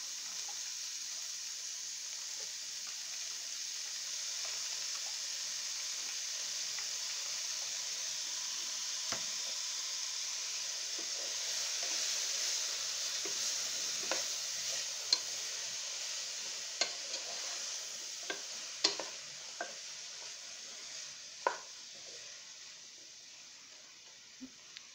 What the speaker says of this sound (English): To help the broccoli steam just a little bit, I have just some water in a squirt bottle.